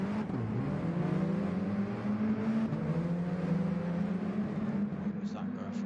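Mini Cooper race cars in a Mini Cooper Cup round at Bathurst accelerate away from the start, engines rising in pitch and droning steadily as a voice talks over the pack.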